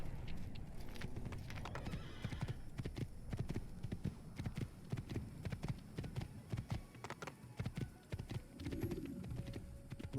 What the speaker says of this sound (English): Time to steal a horse.